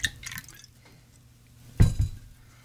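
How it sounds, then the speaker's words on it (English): Bourbon poured over ice in a glass for a cocktail: a brief clink and trickle at the start, a quiet pause, then a louder splashing pour with rattling ice near the end. "we'll pour in our bourbon to start"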